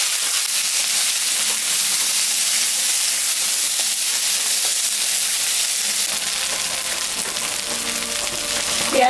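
Onion sizzles and hisses in hot mustard oil in a wok, tempered with five-spice for a small-fish curry, a dense, continuous frying crackle heard close up throughout.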